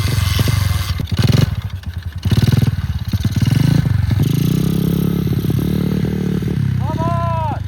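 Pit bike engine revved hard in second gear on a yard, a loud rasping motor rising and falling in surges, with people talking and shouting over it.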